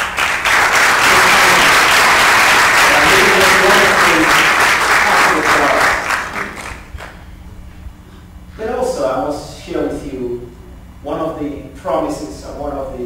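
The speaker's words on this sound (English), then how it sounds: "let's give a round of applause to the staff" Audience applause for festival staff at an African film festival in Silicon Valley, a loud dense burst of clapping for about six seconds, then fading as a voice speaks over scattered lingering claps.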